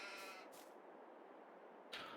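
Sheep bleat in Farming Simulator 22 with one drawn-out, wavering bleat at moderate distance, followed after a short pause by the start of another.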